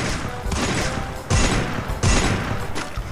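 Sniper rifle gunfire in the Free Fire mobile game, with two sharp, loud shots about 0.8 seconds apart rising over steady in-game background noise, and no talking.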